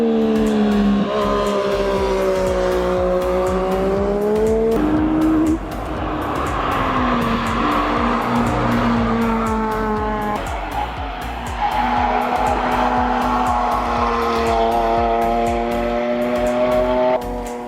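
Cars roar past on the Nürburgring Nordschleife, engines climbing and shifting through gears with rising whines and tire squeal, one vehicle after another close by and loud.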